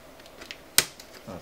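Plastic bezel clips on an Elo ET1529L touch monitor popping loose, one sharp snap standing out among a few fainter clicks, close and alone without talk.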